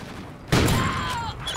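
A sniper rifle fires a single sharp, booming shot in Call of Duty Ghosts, with the report ringing out and decaying over the following second.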